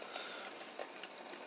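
Eggs cook in a frying pan with a steady, faint sizzle and light crackling pops throughout, with no talking.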